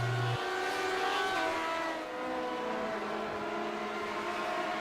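Grand Prix Legends race cars on the Le Mans circuit roar past near the Mulsanne kink, a sustained engine drone with shifting pitch that sweeps by and fades slightly, no talk over it.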